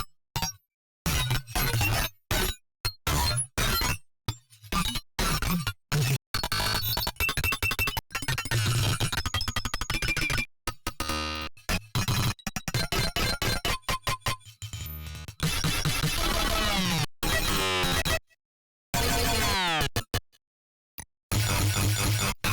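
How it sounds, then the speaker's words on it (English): Choppy digital glitch sound-effect samples from a rack built for a rumble remix, a chaotic run of stuttering, clinking and shattering bursts chopped with abrupt silent gaps, loud and dense throughout with no talk. "best glitches part 1 through 7"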